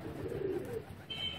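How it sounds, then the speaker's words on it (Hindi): Pigeons coo softly and fairly close by, with one low, rolling coo near the start as a visiting pigeon lands among young birds being trained. A brief thin chirp follows toward the end. "ये अब ये किसी का कबूतर आया हुआ साथ में"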